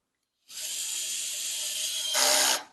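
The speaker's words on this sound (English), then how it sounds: "I'm using a screwdriver, power screwdriver, but it has a torque wrench on it" A torque-limited power screwdriver whirs steadily as it drives screws into a Crescent mortise lock, one continuous run that rises in pitch and loudness near the end before cutting off.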